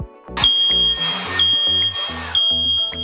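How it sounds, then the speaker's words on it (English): An indoor smoke detector sounding off overhead: loud, piercing high beeps repeat in a steady rhythm, layered over lower tonal background sounds. "I was standing right under the smoke detector, and it started going off."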